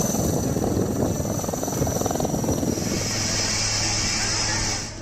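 A rescue helicopter roars nearby during floods, landing on a road, loud rotor chop and a high turbine whine throughout, the thumping easing slightly toward the end.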